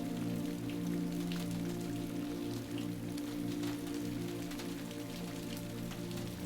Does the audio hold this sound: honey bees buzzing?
no